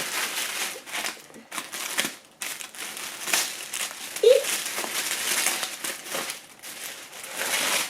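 Tissue paper from a Chanel bag box is unwrapped up close, giving continuous crinkling and rustling with soft crackles and small bursts as the sheets are pulled apart.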